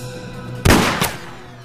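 Gunfire in a film shootout gives one loud, sharp shot, then a second, weaker report about a third of a second later, over a steady low background hum.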